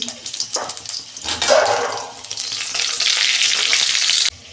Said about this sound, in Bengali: ওই কড়াতেই আমি তেল দিচ্ছি, একটা তেজপাতা আর কাঁচা লঙ্কা দিচ্ছি তেলে, গোটা জিরে দিচ্ছি